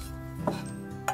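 A frying pan being handled in a kitchen, two light metallic knocks and clinks about half a second apart, close and quiet over a faint steady background hum.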